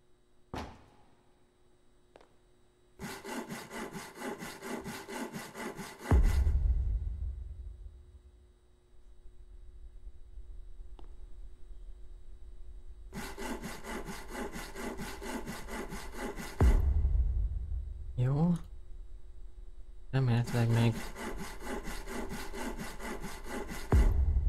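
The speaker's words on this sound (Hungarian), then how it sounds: "vágjak valamit fűrésszel a deszkát" A wooden board is sawn in the horror game Panicore, with three long bursts of rapid rhythmic saw strokes separated by pauses and heavy thuds as pieces drop.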